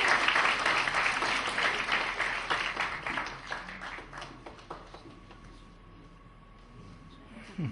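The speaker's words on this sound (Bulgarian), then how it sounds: "Аплодисменти за Диляна Попова." An audience applauds an award winner at a fashion-icon awards ceremony, steady clapping from a crowd that thins out after about five seconds, leaving faint room tone and scattered claps.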